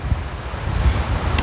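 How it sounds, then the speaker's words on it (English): Strong wind blowing straight into a microphone outdoors: loud, gusty low-pitched buffeting and rumble that surges unevenly through the short moment, with no speech. "Now it's really windy, so I hope you can hear me."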